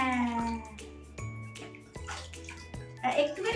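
A pet parrot gets a bath with water, with splashing and trickling water in the background while a person keeps talking over it in a warm, coaxing voice and a bird chirps briefly near the end.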